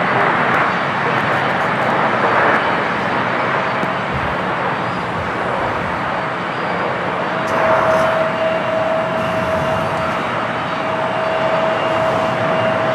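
A Cathay Pacific Boeing 777-300ER rolls down runway 25 right at LAX, a loud sustained broadband jet roar heard from the airport side, with a faint steady whine joining partway through.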